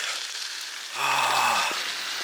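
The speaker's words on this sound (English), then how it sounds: "And it's raining." Steady rain pattering on a surface in the Norwegian fjords, a continuous close hiss that swells briefly louder midway, with no voices.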